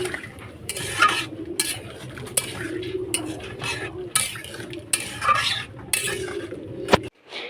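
Figs and shrimp being stir-fried in a pan in a village kitchen: a spatula scrapes and clinks against the metal in repeated strokes over a soft, steady sizzle, close and fairly loud.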